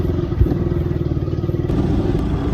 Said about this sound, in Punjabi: ਰੇੜੀ ਨਿਕਾਲੀ ਮੋਟਰਸਾਈਕਲ ਦੇ ਪਿੱਛੇ ਪਾ ਕੇ ਬੜਾ ਔਖਾ ਹੋ ਜਾਂਦਾ।